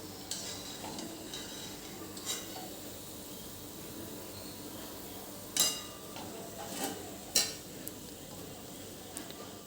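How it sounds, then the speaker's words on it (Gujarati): Soft, steady sizzling of leftover thepla nachos frying in oil until crisp, with a few sharp clinks of a utensil against the pan. "ક્રિસ્પી થાય ત્યાં સુધી આપણે એને તળવાના છે"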